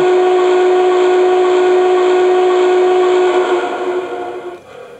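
A long, loud steady whistle blast from an MTH Norfolk & Western Class J 611 model steam locomotive in DCC mode, holding one bright chord for several seconds before wavering and cutting off.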